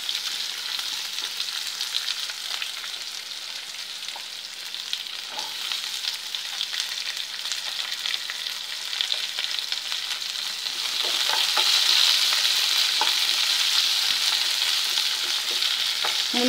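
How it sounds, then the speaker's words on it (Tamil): Onions frying in a pan for paneer masala gravy, a steady close sizzle with occasional stirring scrapes that grows slightly louder partway through, with no talking. "வெங்காயத்தை போட்டுடலாங்க. நல்லா வதங்கட்டும்."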